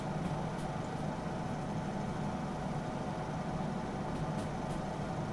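A locomotive engine in Derail Valley runs at speed, a steady dense rumbling drone with a constant mechanical hum, loud and unbroken throughout and heard alone.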